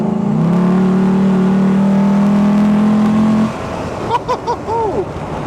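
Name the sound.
Land Rover Defender engine accelerating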